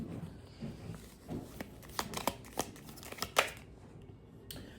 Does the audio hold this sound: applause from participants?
no